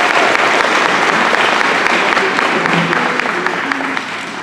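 Audience at a service club luncheon breaking into sustained applause, a dense, loud wash of clapping that holds steady and begins to taper off at the end.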